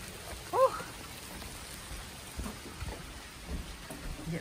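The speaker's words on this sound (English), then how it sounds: "Here comes the rain." A steady, soft patter of rain falls on surfaces in a storm, with a faint bird chirp near the start and a few quiet rumbles underneath.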